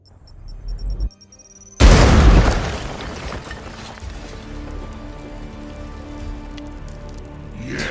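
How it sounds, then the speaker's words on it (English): A frag grenade goes off in the Warhammer 40K: Chaos Gate video game: a short burst of rumble, then one loud, heavy blast that settles into a long, crackling, rain-like debris hiss. "Frag behind so they blow through it towards us."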